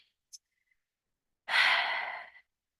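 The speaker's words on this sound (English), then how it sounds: "take a deep breath." A single deep breath, drawn and released close to the mic in about a second, broad and airy, after a tiny click and otherwise quiet surroundings; no talking.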